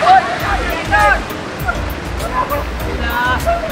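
Water rushes steadily at Linaw Falls, one of the cascades of San Benito Falls, a continuous broad roar heard under people talking nearby.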